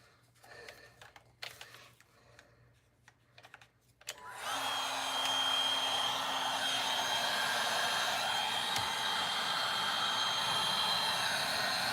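A heat gun blows hot air onto an RC car part. A few faint clicks and handling noises come first, then a loud, steady, close-up whooshing roar switches on and continues unbroken to the end.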